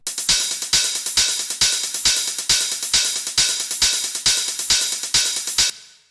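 Bright electronic cymbal hits in a dark techno track repeat in an even, steady rhythm, each with a short decay, with a soft low kick pulse beneath, ending abruptly.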